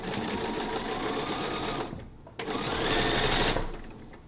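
Sewing machine stitching a quarter-inch seam through Christmas quilt fabric, a steady close motor whir that stops briefly partway through, then resumes at full speed.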